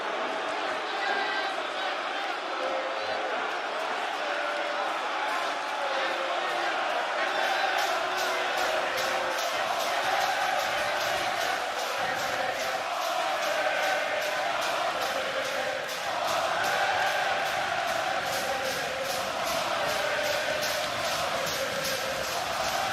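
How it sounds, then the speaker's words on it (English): A large wrestling crowd in a Cardiff arena chanting loudly and rhythmically, with rapid clapping or stomping beats running through a dense roar that fills the whole stretch. "Given the opportunity, this crowd might do this all night."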